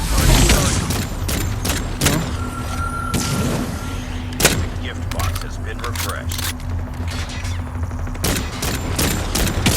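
Rapid gunshots ring out at moving carnival shooting-gallery targets in a video game, a rhythmic string of sharp cracks and pops with someone speaking over them.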